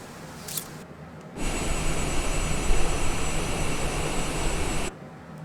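Airliner jet engine roar heard from the cabin as the throttle is pulled back for a rapid descent into Jackson Hole, a steady broadband rush that swells in and holds before cutting away.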